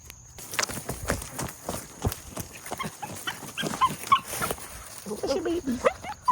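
Rabbit hunting dogs in North Carolina whimper and whine in short, high-pitched bursts amid rustling, shuffling paws and movement, growing more insistent toward the end.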